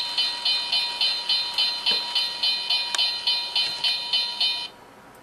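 A Z-scale model railroad crossing gate rings a high electronic bell in steady, evenly spaced pulses, about two per second, close and clear, then stops abruptly as the train finishes passing through.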